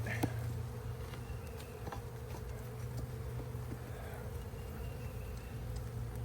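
Honeybees hum in a dense, steady drone around an open hive during a hive split, with faint clicks and knocks close by and no voices heard.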